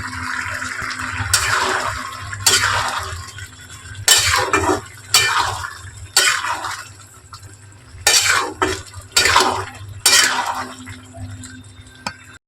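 A fried egg goes into a boiling bottle gourd and lentil curry and is stirred, giving sharp metallic clinks and scrapes of a utensil against the pot at irregular intervals over a steady low hum, with no talking.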